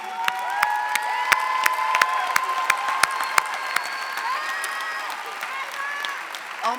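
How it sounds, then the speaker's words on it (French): A crowd at a graduation ceremony claps steadily, with sharp hand claps standing out, scattered cheering and whistles, and voices mixed in throughout. "Ça s'applaudit."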